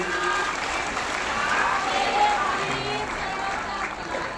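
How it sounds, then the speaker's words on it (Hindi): Audience at a Das Dharma saint gathering clapping, a dense, steady wash of applause that holds through the whole moment with a crowd murmur underneath. "तालियां भी बजा सकते हैं इनके लिए।"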